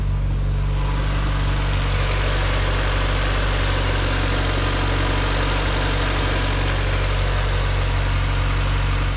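A Honda CRX fitted with a new exhaust idles close by, a steady, deep rumbling drone with constant vibration and no change in pace, with no talk over it.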